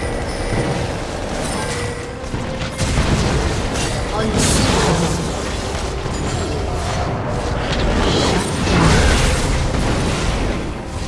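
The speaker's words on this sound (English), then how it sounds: "Team's turret has been destroyed." League of Legends turret destruction: booming, explosive game impacts over a dense, continuous mix of game effects, loud throughout with a few stronger bursts.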